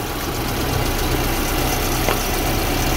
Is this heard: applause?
no